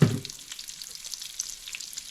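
Garlic and turmeric frying in oil in a pan for rice with dahl: a soft, steady sizzle with light crackles, close and fairly quiet, beginning with a brief louder clatter.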